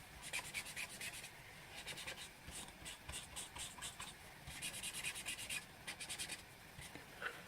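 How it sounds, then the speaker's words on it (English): Repeated scratchy rubbing of a blender pen tip on paper to clean it, in short bursts with brief pauses, close and moderately loud. "So I need to clear that blender pen off."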